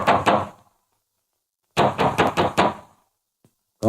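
Knocking on a door in a 1940s Hindi film scene: a quick double knock, a pause, then a louder run of about six rapid raps, a faint tap, and another knock beginning at the end, with no talk.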